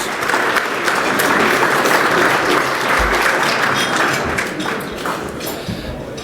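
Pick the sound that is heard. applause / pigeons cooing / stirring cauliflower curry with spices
applause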